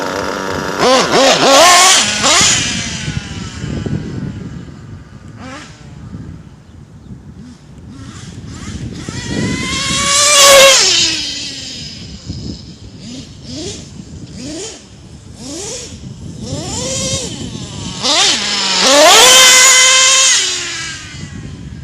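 A modified nitro RC car with an LRP .32 engine on a speed run, its high-pitched engine whining up in repeated loud revving bursts that rise and fall as it passes near and pulls away.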